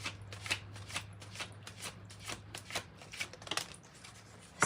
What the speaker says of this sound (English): let's go ahead and get clarifying cards for you